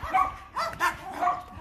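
Several quick barks and yips from shelter dogs come from close by in a few bursts over under two seconds, with no speech.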